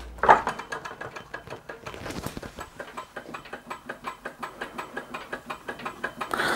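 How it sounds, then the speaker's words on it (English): An Empire Model B-38 hot air engine runs with a steady, rapid mechanical ticking and clatter, evenly paced and fairly close, continuing alone without speech. "It's definitely running."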